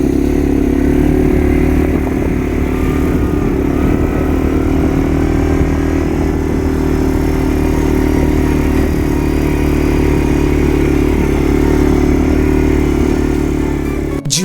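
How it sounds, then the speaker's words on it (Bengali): An ATV engine runs on the Rohtang Pass in the Himalayas, a loud, steady, close droning hum with a rough mechanical rattle that holds without a break from start to finish, with no voices. "জীবনে প্রথমবার এটিভি চালালাম, তাও রোটাং পাসে।"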